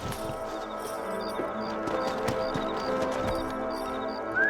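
Horses ridden along a trail in the Red Dead Redemption game give a steady, moderately loud clip-clop of hooves, with faint ambient tones and a soft rising whinny-like sound at the very end.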